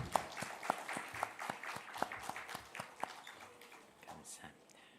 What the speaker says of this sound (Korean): 우리 한 번 더 크게 박수해 주시기 바랍니다